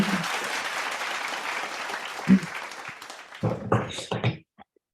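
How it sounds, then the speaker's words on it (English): A crowd applauds a speaker at a conference event, dense clapping that fades out past three seconds, followed by a few short bursts of voices. "why not we give another round of applause to our Mrs. Ursula Maklaklan"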